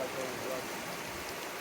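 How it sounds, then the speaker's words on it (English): Steady rain falls on a mountain path through a ravine, a dense, even hiss that stays constant throughout at a moderate level. "it's raining, but it's not spoiling the day in any way at all"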